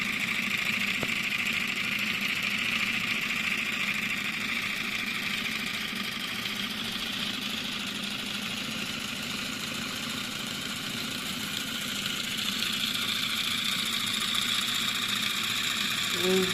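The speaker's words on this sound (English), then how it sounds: "Look at how the engine is running." A solenoid-driven reciprocating engine model runs steadily, giving a continuous mechanical buzz and hum with fine rapid ticking, close and even throughout with no talk.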